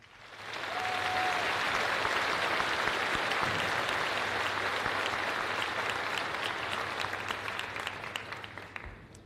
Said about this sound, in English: Please join me in giving these valued educators a round of applause.